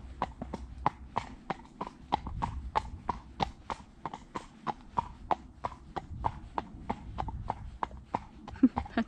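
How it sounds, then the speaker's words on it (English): A horse's hooves clip-clop on flat, hard ground in a steady walking rhythm, each strike crisp and close with a quiet background. "it's nice and flat and it makes good hoof sounds"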